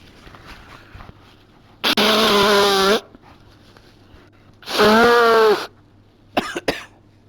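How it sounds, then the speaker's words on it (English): Two long, loud nose blows into a tissue, each about a second, close to the microphone, followed by a short sniffling snort. "Let me blow my nose."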